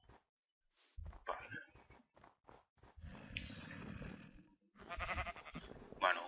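Sheep bleating in the Minecraft video game, several wavering bleats at varied distances scattered across the clip, mixed with other game sounds.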